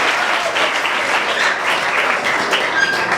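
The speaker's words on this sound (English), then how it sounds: "I'm expecting that clap to be louder than that" Audience at a high school reunion, a gathering of a late-1980s graduating class, gives a steady round of applause, dense, loud and close, with a faint murmur of crowd behind it.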